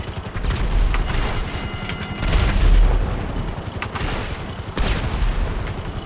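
Gunfire in the Grand Theft Auto video game: a dense, loud fusillade of rapid shots with booming impacts, surging in several bursts with no talk over it.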